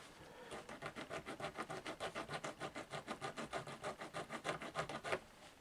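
Quiet, steady back-and-forth scraping on a plastic surface while preparing a piezo pickup, about two dozen even rasping strokes in a quick regular rhythm, close and alone.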